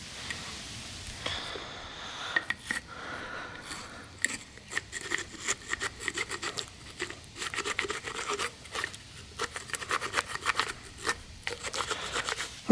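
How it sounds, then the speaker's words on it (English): Brisk, rhythmic scrubbing inside the lower legs of a RockShox Quadra bicycle suspension fork, repeated rasping brush strokes close up, steady for several seconds without speech. "Get all scrubbed out in there as much as I can."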